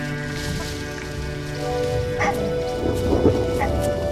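Steady rain falls over forest by the Kazinga Channel with low rumbling thunder underneath, and a few brief animal calls break through near the end.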